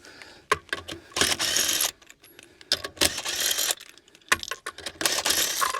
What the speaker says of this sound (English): I was going to use the rattle gun to take off the rest of the wheel nuts now